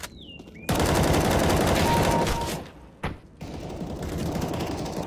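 Rapid automatic gunfire in the shooter game Counter-Strike: Global Offensive, a loud sustained burst of shots that stops and then resumes with further firing.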